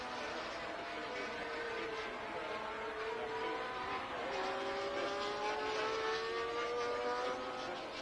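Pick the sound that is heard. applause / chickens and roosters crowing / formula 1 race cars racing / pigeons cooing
formula 1 race cars racing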